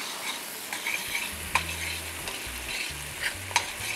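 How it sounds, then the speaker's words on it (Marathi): Chopped onion frying in salted butter in a pan for a prawn dish, giving a steady close sizzle with intermittent spoon scrapes and a few sharp utensil clinks. "मांदा फ्राय होतो तर काय मस्त सुगंध येतोय"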